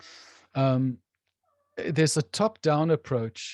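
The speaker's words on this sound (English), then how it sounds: "That's my cat, sorry." A house cat meows loudly and close by, two clear calls separated by a pause, while someone talks during an indoor conversation.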